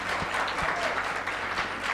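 Continuous audience clapping at a university student technical conference as quiz finalists walk to their seats, a steady dense patter of many hands filling the room.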